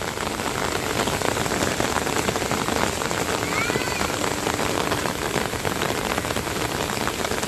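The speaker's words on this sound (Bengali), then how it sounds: "আজকে আমাদের এখানে তুফান থেকে বৃষ্টি হচ্ছে" A storm drives heavy rain in a loud, unbroken roar of drops striking nearby surfaces, continuous throughout with no talking.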